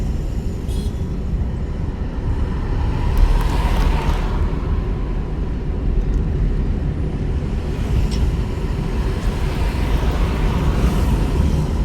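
A car's engine drones steadily from inside the cabin while moving during a driving lesson, with road and tyre noise underneath and a slight rise in intensity midway, no voices heard.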